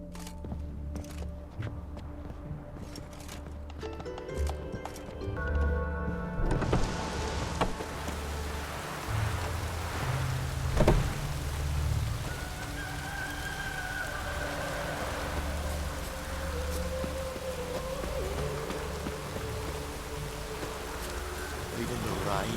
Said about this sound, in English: Even the rain smells good here.